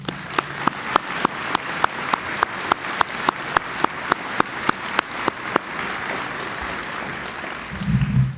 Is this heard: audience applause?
yes